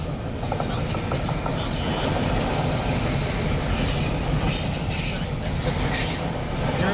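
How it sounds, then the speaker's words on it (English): A very long freight train, several engines strong, rumbles past close by in a steady, unbroken roar of rolling railcars with wheel squeal and clatter, sustained loud throughout. "This is huge, this train. A mile fucking long."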